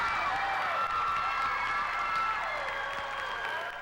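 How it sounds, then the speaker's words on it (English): An international audience at a 1994 European choir competition gives the Ole Miss concert singers sustained applause with cheers and cries, a dense continuous roar of clapping and voices heard from within the hall. "Through cries of bravo, thunderous applause, and foot stomping from the international audience"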